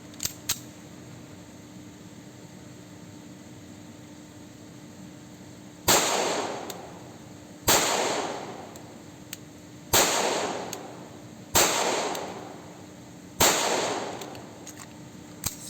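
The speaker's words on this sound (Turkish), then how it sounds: "Şimdi Sigzar P226 ile atışa devam edelim arkadaşlar. Bakalım Sigzar çalışacak mı?" Sig Sauer P226 pistol fired at a shooting range, with five loud, sharp shots spaced about two seconds apart, each followed by a short ringing decay over faint background hum.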